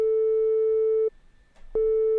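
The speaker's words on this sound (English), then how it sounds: "So this is what one sine wave sounds like." A pure, steady sine tone from a Serum wavetable synthesizer sounds, cuts off for a moment, then resumes at the same pitch.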